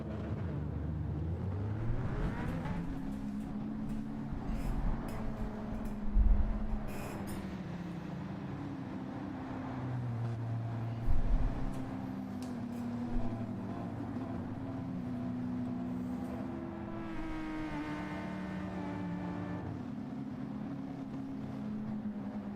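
Race cars in a Gran Turismo 7 daily race, including Ford GTs and an Alfa, drone steadily with engine pitch rising and falling through gear changes, a few louder bumps, no talk.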